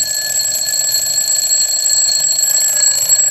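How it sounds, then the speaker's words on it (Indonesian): A loud, steady bell-tone alarm from a wind-up alarm clock keeps up a continuous high ringing from start to finish, close and alone with no speech. "Ini yang nadanya yang lonceng"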